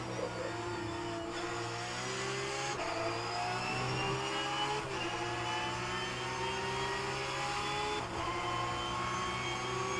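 A Formula 1 race car engine at the Bahrain Grand Prix, heard at a distance as a steady high-pitched whine with rising and falling pitch sweeps as it revs through gear changes, no talk over it.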